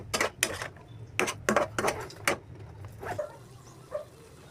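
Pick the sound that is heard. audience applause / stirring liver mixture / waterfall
stirring liver mixture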